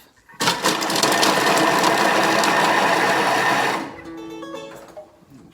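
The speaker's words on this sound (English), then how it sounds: "we're going to chop that up, putting the lid back on, and just 3 seconds on speed 5." A kitchen mixer chops onions and garlic for pumpkin soup, running on speed 5 in one loud, steady whirring burst of about three seconds that stops abruptly and leaves a faint hum.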